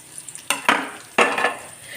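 Prawns drop into hot, smoking oil with turmeric for prawn pickle, setting off two sharp bursts of hissing sizzle that trail off. Each burst is close and loud, with light stirring noise between them.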